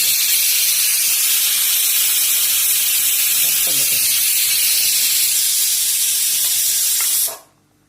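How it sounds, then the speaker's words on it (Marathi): Loud, continuous steamy hiss from a pot of methi at a rolling boil, broad and unbroken, then cutting off abruptly near the end. "इकडे उकळी यायला लागल्या पण अजून जरा चांगली होईल"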